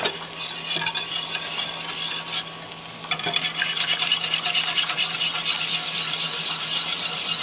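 Homemade liquid latex being stirred in a pot, a close continuous rasping scrape of a utensil against the pot bottom, quieter at first then louder and busier in rapid rhythmic strokes, with no voices.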